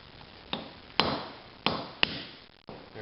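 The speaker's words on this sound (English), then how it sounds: "we'll take a whack at it with the chisel and hammer" Four sharp metallic blows of a hammer striking a chisel against a front wheel bearing on a 2003 Mazda, spaced irregularly with ringing decay, close and loud.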